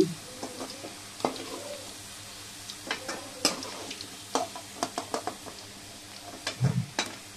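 Potato pieces fry lightly in oil in a pan, a soft sizzle with scattered clicks and scraping taps from stirring, close by and without speech.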